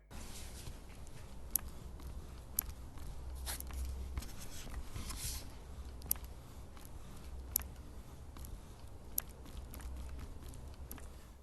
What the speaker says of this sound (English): And now to display hinges. Well, they're making clicking noises.